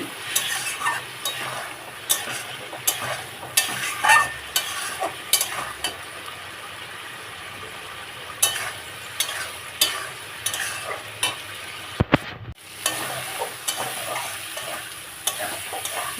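Spice masala being stir-fried in a pan for a Bengali aar fish curry with brinjal and potato, a steady scraping and sizzling with repeated spatula strokes through the whole stretch and a brief clatter near the end.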